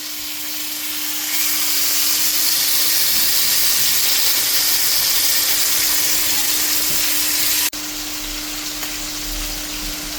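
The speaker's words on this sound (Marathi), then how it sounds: "सुंगटां भाजता आनी दाखयता तुमकां." Prawns frying in a pan for a Goan prawn balchao, a steady loud broadband sizzle holding throughout, briefly dipping near the end before continuing at a slightly lower level.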